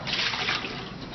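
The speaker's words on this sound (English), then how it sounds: "I'm going to just rinse this out good" Water runs and splashes as a GE MWF refrigerator water filter housing is rinsed out, a steady close gush with no voices.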